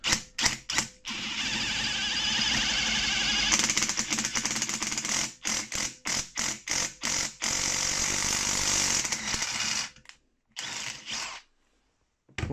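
A Parkside impact driver drives a thread tap, a loud rattling hammering burst that runs steadily, then breaks into a string of short stuttering pulses and a few final brief bursts separated by silence.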